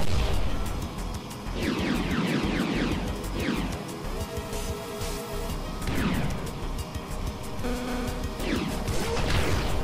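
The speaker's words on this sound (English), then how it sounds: "Oh, those missiles are close!" Missiles exploding close by in the flight combat game Sky Rogue, a dense run of loud crashing blasts and booms one after another over continuous roaring engine noise.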